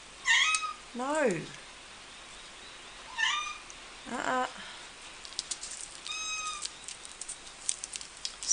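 A pet cat named Lucy, kept indoors on a stormy day, gives several clear, close meows, some rising and falling, spaced a few seconds apart over a soft steady background hiss, with a brief spoken word.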